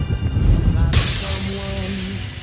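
Plate glass shatters with a sudden loud crash about a second in, followed by a bright spray of falling shards and tinkling debris that fades slowly, in a tense film scene.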